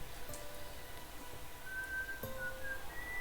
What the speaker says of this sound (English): Come on, whistle the sound.